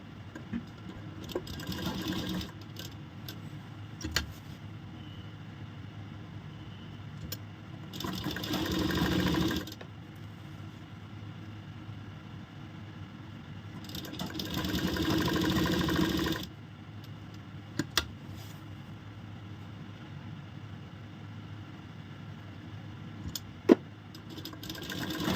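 A sewing machine stitches the sleeve seam of a piped kurti in bursts, its motor whirring loudly in several runs of a few seconds each, with quieter pauses between.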